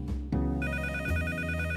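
A telephone rings in a PSP mystery adventure game, a steady electronic ringtone with sustained harmonic tones that starts abruptly and continues clearly and loudly, with no talking over it.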